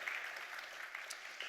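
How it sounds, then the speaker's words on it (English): A small audience at a live-streamed session claps in a brief, steady round of applause, moderately distant and continuous throughout with no voices over it. "Round of applause."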